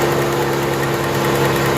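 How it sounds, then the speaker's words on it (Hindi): A car engine with one spark plug wire pulled idles roughly and unevenly, a steady low mechanical rumble with a shaking, vibrating quality running continuously and close throughout, no voices. "जब भी मैं एक प्लग की वायर निकालता हूँ तो इंजन वाइब्रेट करने लग जाता है।"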